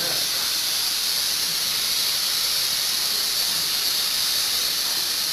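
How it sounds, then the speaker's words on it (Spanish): A whistling pressure cooker vents steam in a constant high, sharp hiss that holds at the same loudness without a break, with a faint wash of room noise underneath. "Podemos ver cómo la presión del vapor hace este efecto en la olla pitadora."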